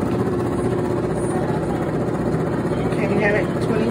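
A portable washing machine on its spin cycle gives a steady, close, continuous mechanical hum and whir that holds an even level throughout.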